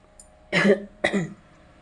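Two close, harsh coughs in quick succession, then quiet.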